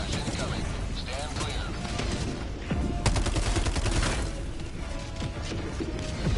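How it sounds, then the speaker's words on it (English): A dense, continuous barrage of explosions and gunfire from an orbital strike in the video game Helldivers 2, booming and crashing loudly throughout with sharper blasts around the midpoint, a voice speaking underneath. "Orbital barrage incoming."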